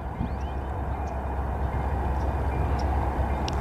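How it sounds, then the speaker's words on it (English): A train rumbles steadily past near a cell phone tower, a low continuous roar with faint squeals and clanks, moderately close and with no one talking. "Uh-oh, I hear a train."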